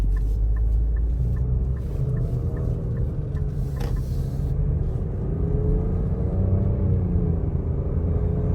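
A 2024 Nissan Rogue SV with its turbocharged engine underway on a road, a steady low cabin rumble and engine drone running throughout with no voices.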